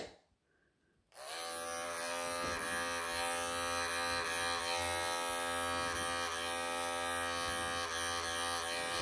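Electric clippers buzz steadily and closely through a Persian cat's fur during flea treatment. A short quiet moment comes first, then a continuous motor drone with slight shifts in tone as the blades move through the coat.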